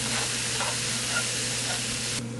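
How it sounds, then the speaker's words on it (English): Onions and meat sizzling in a pan for chili, a dense, steady hiss of frying with faint stirring scrapes and no voices. "Sweat out those onions a little bit. Get them nice and caramelized."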